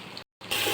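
Water gushes from a tap into a pot to cook rice for chicken biryani, a steady rushing flow broken by a brief cut, then louder and fuller.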